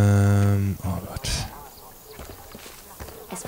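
A bird in the Far Cry 5 video game lets out a long, loud honking call at the start, followed by quieter scuffling and clatter while someone talks over it.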